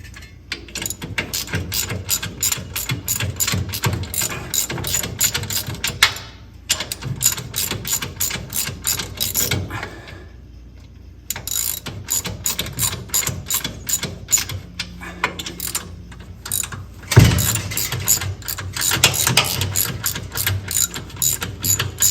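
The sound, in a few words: ratchet tightening bolts on 1952 Chevy truck power steering box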